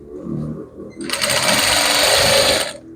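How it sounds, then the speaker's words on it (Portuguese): A sewing machine stitches the two sides of a pet dress together in one loud, steady, close burst of rapid motor whir lasting about two seconds. Quiet handling sounds come before it. "Primeiro, eu vou costurar aqui."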